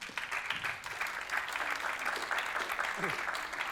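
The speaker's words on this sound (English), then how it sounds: "Big applause for them" An audience at a corporate innovation event on quantum computing applauds as panel speakers walk to the stage, a dense, fairly distant clapping with scattered voices talking underneath.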